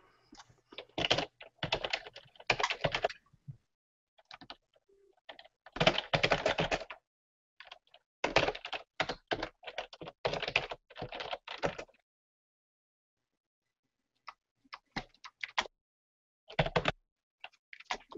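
Quick, uneven bursts of computer keyboard typing as a headline is entered on a sales page, clicking keys clustered in short runs separated by pauses, close and fairly quiet with no talking.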